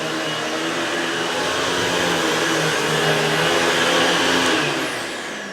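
A Royal 7300 Protege upright vacuum cleaner runs steadily and loudly throughout, with a constant motor whine and airflow roar that eases slightly at the very end.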